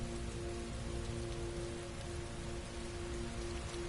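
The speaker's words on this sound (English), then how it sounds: "Heavy rain. It's been the same for weeks." Heavy rain in the video game Heavy Rain, a dense and steady hiss of drops pouring onto surfaces, fairly faint and unbroken, with no voices.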